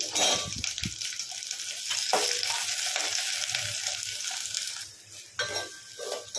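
Drumsticks and curry leaves being stirred in a frying pan, a steady close sizzle with scraping stir strokes and a few sharper clatters, no voices.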